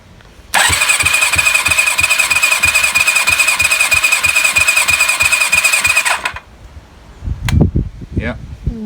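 Kawasaki ZL600 Eliminator engine cranking with the throttle fully open for a compression test, a loud steady rhythmic starter whir with pulsing compression beats for about six seconds, then stopping, followed by brief handling noises.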